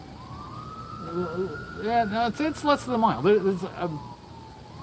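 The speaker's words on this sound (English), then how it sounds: "So we get sirens, we get ambulances, we get helicopters all through here." An ambulance siren from a nearby hospital wails and warbles in a rising and falling tone, sounding at moderate distance, while people talk over it outdoors.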